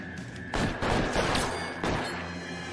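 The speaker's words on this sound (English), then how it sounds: "He's shooting really low." Gunfire in the video game L.A. Noire: several loud bursts of shots cluster over a few seconds amid a busy game soundscape, fairly close, with no talk.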